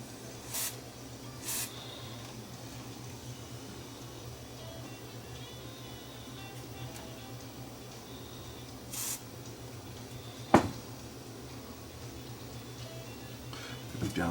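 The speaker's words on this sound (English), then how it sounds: "if I get the cleaner in here, I might be able to get enough to go inside the switch and get onto the surface of the switch" Contact cleaner sprayed into the switch of a Sony SL330 Betamax deck: a few brief, faint hissing bursts over a quiet room tone, with a sharp click midway.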